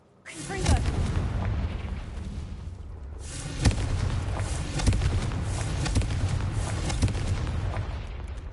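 Confringo fire spells blast in Hogwarts Legacy, a roaring explosive rumble with a sharp initial boom and several further bursts spread across the stretch, sustained loud crackling between them.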